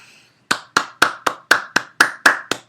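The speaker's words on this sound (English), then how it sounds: "Everyone stand up and clap for the almighty" Eight sharp hand claps sound in a steady, evenly spaced rhythm, close and loud, each with a crisp attack and quick decay, after a brief quiet start.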